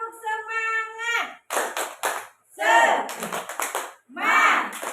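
A group in an Indonesian classroom performs the tepuk semangat clap chant: sung and shouted voices alternate with short bursts of rhythmic clapping, close and loud.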